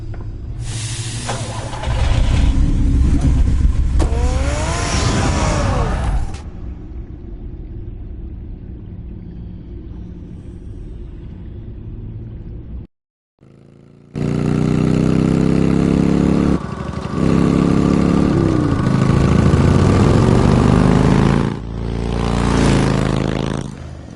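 A car engine in the video game Batman Telltale, a loud revving burst followed by a lower steady idle, a brief drop to near silence, then another strong rev and sustained rumble.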